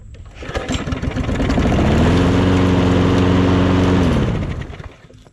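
A 2009 Poulan Pro 625 chainsaw engine fires up and runs at a loud, steady buzzing drone close by for several seconds, then dies away, with no voices over it.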